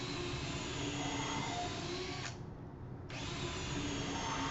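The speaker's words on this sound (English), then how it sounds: "we'll drill a couple holes for pre-drilling screws" A cordless drill boring pilot holes into a piece of wood for screws, a steady close, loud motor whine that stops briefly in the middle and then resumes.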